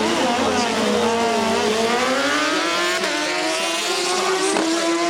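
A Kawasaki drag racing motorcycle with a wheelie bar and slider clutch launches down the strip at the Winter Nationals, a loud continuous engine scream whose pitch climbs steadily and stays close and dominant throughout.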